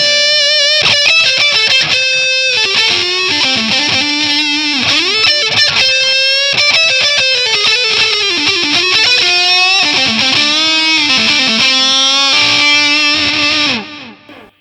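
A heavily distorted electric guitar plays a loud, continuous riff through a delay pedal set to a very low mix, so the repeats blur almost like reverb; the playing cuts off abruptly at the end.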